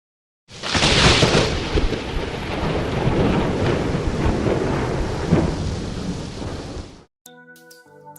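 A loud thunderstorm, with steady heavy rain and long rumbling thunder rolling continuously for about seven seconds before it cuts off abruptly. A brief stretch of faint music follows.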